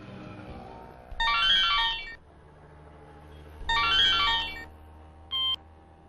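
A mobile phone ringtone goes off inside a petrol station in a Tamil film scene: two loud bright melodic bursts separated by a pause, then a short third tone, over a quiet background.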